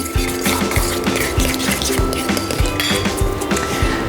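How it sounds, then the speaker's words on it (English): Eggs, grated Parmesan and cracked black pepper whisked together in a bowl, giving quick repeated clinks and taps of the whisk against the dish, close and steady throughout with no talking. "Whisk this all together."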